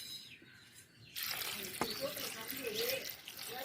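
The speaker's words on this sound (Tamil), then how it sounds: "1 லிட்டர் தண்ணி ஊற்றி" Water is poured from a container onto crushed grapes for homemade wine, starting abruptly after a quiet moment and continuing as a steady close splashing gush with faint bubbling.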